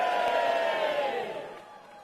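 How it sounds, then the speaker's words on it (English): A crowd cheers and whoops for the ladies at an outdoor carol singing in a town square, a loud burst of voices that swells at once and then fades gradually over about two seconds. "Let's have a big cheer for the ladies."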